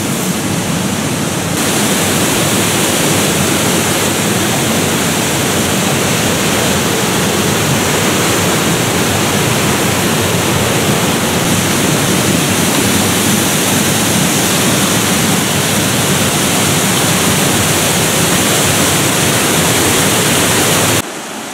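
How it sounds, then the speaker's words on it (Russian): Waterfall roaring in a rocky gorge below a mountain ledge in the Verkhoyansk Range, a dense, unbroken broadband rush that stays loud and steady throughout with no voices. "водопад уже ниже. Вон он подо мной там в ущелье ревет."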